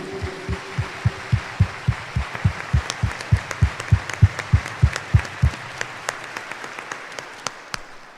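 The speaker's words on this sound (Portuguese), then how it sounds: "Dê uma salva de palmas para Ele." Congregation at a Sunday Mass applauds in rhythmic unison, a regular beat of claps over a looser wash of hands that gradually thins and stops.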